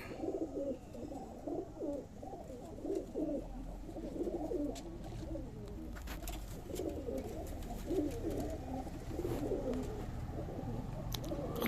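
Pigeons coo in a steady, overlapping low murmur at a pigeon sale, several birds close by, continuing throughout with faint background noise.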